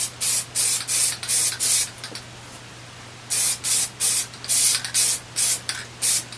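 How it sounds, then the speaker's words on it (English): Plasti-Dip is sprayed from a can onto Halloween prop hands in short, sharp hissing bursts, about five in a row, then a pause, then another run of about seven, close and loud. "a sheeting coat of spray, which would give you a shinier surface, or probably a satin surface"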